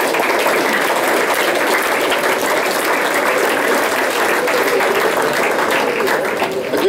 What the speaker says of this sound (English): round of applause please for Gordon and Gary